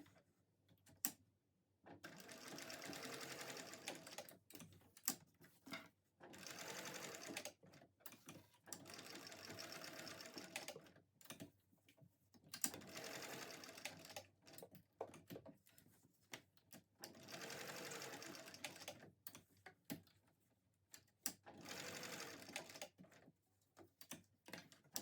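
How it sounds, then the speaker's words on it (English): A sewing machine stitches a box-and-X pattern to secure a tote bag strap, running in repeated bursts of steady mechanical whirring separated by short pauses, close and clear with no talking. "So I'll just go to the sewing machine and do that now."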